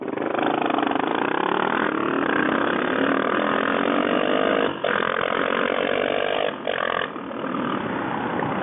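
A DR650 dual-sport motorcycle revs hard in a drag race against a KLR650, its engine climbing in pitch with brief dips at gear changes, loud and close throughout.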